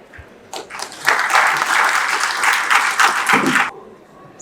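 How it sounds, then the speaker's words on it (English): A conference audience applauds after a talk with a brief burst of clapping that swells quickly, holds for a few seconds, then cuts off, with a voice heard at the edges. "another round of applause for Maureen"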